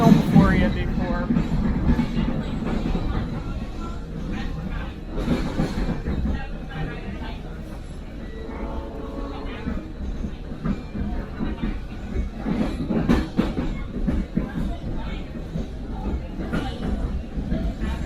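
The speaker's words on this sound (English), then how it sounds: "the train will cross the bridge to the east bank" Railcars of a bike excursion train roll along the Lehigh Gorge rails toward a bridge crossing, with a loud, continuous rumble, rhythmic clickety-clack of wheels and occasional squeals, while voices talk faintly in the background.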